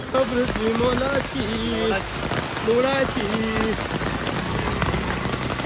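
Heavy rain pours onto a road in a steady, dense hiss that continues without a break, while voices talk in the foreground.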